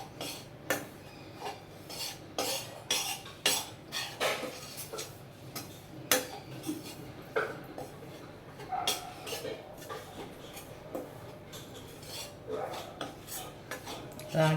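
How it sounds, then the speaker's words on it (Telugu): A spoon scrapes and taps against a pan as ragi flour is stirred and roasted in ghee, making irregular close clinks and scrapes over a quiet background. "నేతిలో దోరగా వేయించుకొని పక్కన పెట్టుకోవాలి."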